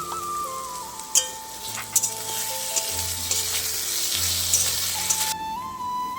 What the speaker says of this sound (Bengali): একটু ভাজা ভাজা করবো তো